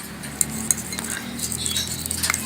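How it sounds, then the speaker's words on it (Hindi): A spoon clinks and scrapes in a small container while kalonji oil is mixed into a homemade remedy. The light metallic ticks and stirring are close and fairly soft. "इसको आप अच्छी तरह से मिक्स कर लें।"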